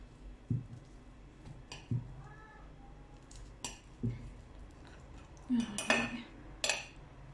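A knife or utensil cuts cake into pieces on a plate, giving several soft taps and clinks on the dish spaced apart, with quiet scraping between.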